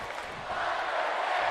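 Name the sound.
wrestling crowd cheering in Las Vegas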